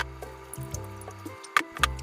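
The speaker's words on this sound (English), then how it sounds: "And pour that extra little bit into a glass" Liquid pours into a glass in short splashy bursts, close by, with a few soft clinks and drips and no talking.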